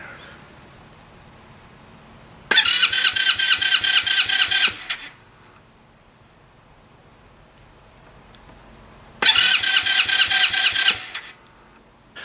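A small Romet Ogar 202 moped engine kicks into a loud, rapid buzzing for a couple of seconds, cuts out, then fires up again briefly after a quiet pause.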